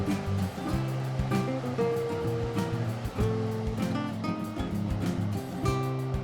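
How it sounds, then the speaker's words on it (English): The Zamora River rushes beneath a small covered bridge in Loja, a steady broadband water roar mixed with footsteps and a busy rhythmic background of tones. "we are actually crossing the Samora River."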